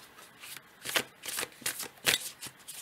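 Tarot cards shuffled by hand in a quiet room, a run of soft riffling bursts and slaps in an uneven rhythm, close and fairly faint.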